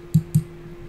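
Two crisp mouse clicks, close and fairly loud, spaced about a fifth of a second apart over a faint steady hum, made while confirming a setting in Sony Vegas Pro on a computer.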